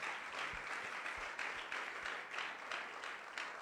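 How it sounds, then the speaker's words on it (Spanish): A church congregation claps and applauds in praise of Jesus Christ during a sermon, a steady, dense wash of clapping from a crowd heard alone at moderate distance throughout. "Denle un aplauso fuerte a Jesucristo nuestro Señor."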